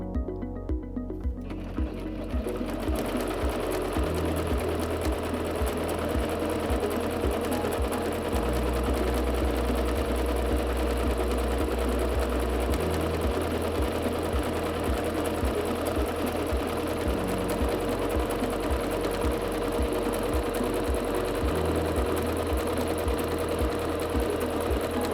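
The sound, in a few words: Singer C5205 sewing machine stitching with short stitch length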